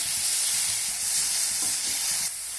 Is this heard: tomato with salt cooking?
yes